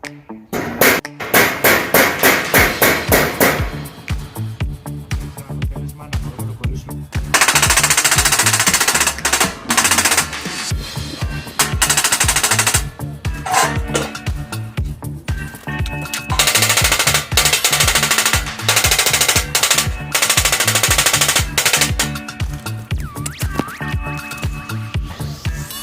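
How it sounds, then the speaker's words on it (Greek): A hammer strikes a metal strip, bending it around a thick iron bar while a barbecue grill is being rebuilt. Loud, close, rapid metallic blows come in repeated runs, with dense clattering bursts between them. "τη χτυπάμε για να έρθει και να εφάπτεται ακριβώς πάνω στο ημικύκλιο που σχηματίζει το σίδερο το χοντρό"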